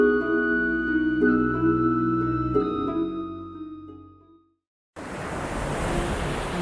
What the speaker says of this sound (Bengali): নদীর ঢেউগুলো আজ অন্য দিনের মতো কিন্তু শান্ত না।